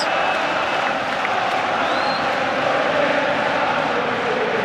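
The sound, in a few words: Anfield football crowd cheering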